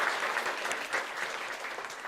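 A church congregation claps in encouragement, a dense, continuous patter of many hands at moderate volume, steady and unbroken for a couple of seconds with no voices over it.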